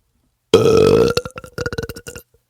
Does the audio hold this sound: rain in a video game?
no